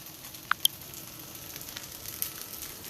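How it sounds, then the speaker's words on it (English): Chicken fried rice sizzles in a hot pan, a steady close hiss with a few small sharp pops near the start, heard alone without talk. "Can you guys hear the sizzle?"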